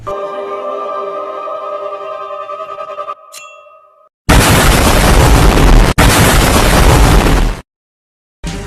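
A quiet tonal hum gives way to a sudden, loud roaring explosion blast from the film The Superdeep, broadband noise sustaining for several seconds, cutting briefly, then resuming.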